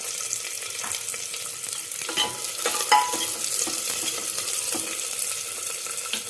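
Onions, capsicum and carrots frying and being stirred in a pan for vegetable biryani, a continuous close hissing sizzle with scraping stir noises and occasional clinks, no talking.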